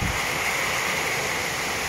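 Steady, dense roar of heavy rain pouring down continuously, loud and close, with a broad hiss and no voices.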